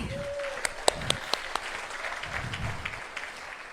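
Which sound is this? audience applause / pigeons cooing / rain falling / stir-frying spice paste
audience applause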